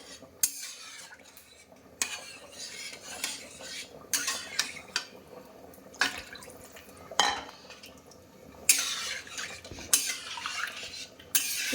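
Rice pudding made with aromatic rice is stirred in a metal pot, a spoon repeatedly scraping and clinking against the sides in bursts with short pauses, close and moderately loud.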